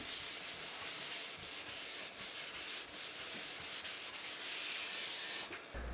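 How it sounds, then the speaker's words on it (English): Steady, close rubbing of sandpaper by hand over the sharp corners of a wooden keepsake box, with quick repeated strokes running continuously and no voices. "the sharp corners hand sanded"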